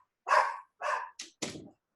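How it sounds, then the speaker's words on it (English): A dog barks four times in quick succession, loud and close, with brief silent gaps between the barks and no voices over them. "Dog's barking."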